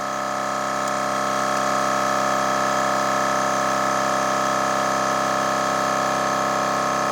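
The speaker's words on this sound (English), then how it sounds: "Pressure on the air compressor is down to 60." A cordless DeWalt 60V or Milwaukee 18V portable air compressor runs steadily close by, a constant loud motor whine with strong tonal hum and no pauses.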